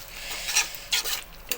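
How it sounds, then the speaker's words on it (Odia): A spoon scrapes through sliced onions frying in a pan, making three quick, rasping stirring strokes over a soft sizzle. "ହଁ ପିଆଜ ବାଲି କଷା ଇଏ ହେବ।"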